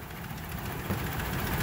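A Ford F-150 pickup engine idles in neutral, a steady low rumble with faint knocking texture, close and fairly quiet, with no voices and no clear rise in revs.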